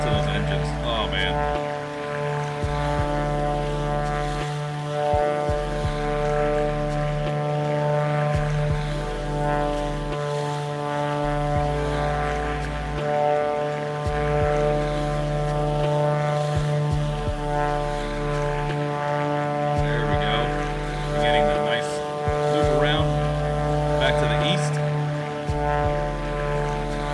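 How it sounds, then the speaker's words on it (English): Twin piston engines of a Black Square Duke in Microsoft Flight Simulator drone steadily during a left turn: a low, even propeller hum with a layered harmonic whine, constant and close throughout. "Listen to those engines."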